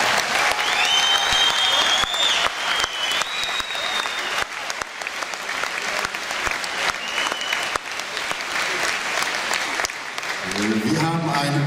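Loud, sustained applause from a crowd after a three-round K-1 kickboxing fight, dense clapping with a few whistles, fading toward the end as a voice begins to speak.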